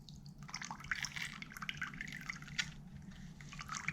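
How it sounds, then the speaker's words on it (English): An 80-grit Velcro sanding disc for a homemade rock polisher, freshly dipped in water, drips and trickles steadily with bright, close splashes and small splats throughout. "I usually like to dip it in the water first."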